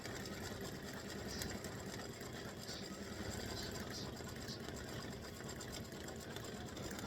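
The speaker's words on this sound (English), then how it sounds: "And I'm going to stitch the whites of his eyes." Embroidery sewing machine stitching off-white thread for the whites of a pumpkin face's eyes, a continuous even mechanical whir with a fast steady needle rhythm, faint and unbroken throughout.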